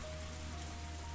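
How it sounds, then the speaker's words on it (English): Steady rain drums on the roof of a parked car in the Higurashi visual novel, a dense, even patter with a low hum beneath it and no voices. "The only sounds to break the silence were the percussion of the rain on the roof and the soft squeak of the windshield wipers."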